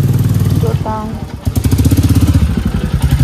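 Motorcycle engine idling and rumbling steadily near a gate at home in Sikkim, a low pulsing throb that drops out briefly then resumes, with voices talking over it.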